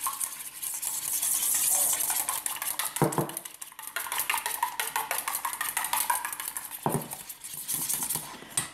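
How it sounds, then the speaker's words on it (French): An egg is beaten with a spoon in a bowl, giving quick rapid clinking taps in a steady rhythm, fairly close, with a couple of brief pauses and no voices. "j'ai mon œuf, je viens le battre"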